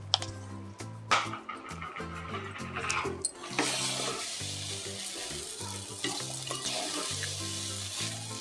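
Cooked rice and eggplant are stirred in a pan over a low flame, with spoon scrapes and clinks at the start followed by a steady close sizzle and rustling that runs on alone without talk.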